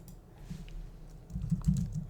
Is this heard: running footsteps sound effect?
no